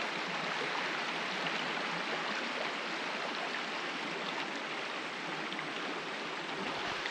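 A sunny creek runs beside a bush campsite at Yackandandah Creek near Mt Stanley, giving a steady, even rush of flowing water close by with no voices over it.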